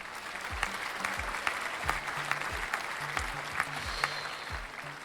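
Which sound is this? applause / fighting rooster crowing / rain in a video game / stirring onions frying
applause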